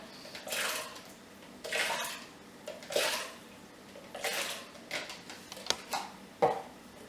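Sesame oil and water stirred in a container, a series of swishing, sloshing strokes in bursts roughly every second, close and fairly quiet, no talk.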